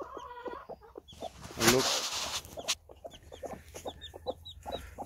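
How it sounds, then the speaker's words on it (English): Mother hen clucking among her first newly hatched chicks, with soft repeated clucks, a louder squawk midway, and faint high chick peeps near the end, while a person speaks briefly. "Protective mother. All right, guys, we have our first bunch of chicks."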